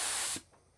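HVLP spray gun spraying fluid in a woodworking shop, one short loud hiss of spray that cuts off abruptly, leaving faint room noise.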